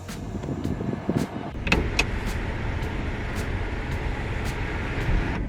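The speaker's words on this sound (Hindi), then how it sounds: "Close sunroof." Inside a Hyundai Verna, the electric sunroof closes on voice command: a steady whirring motor hum with light ticking and a soft thunk, all heard close in the cabin with no talk.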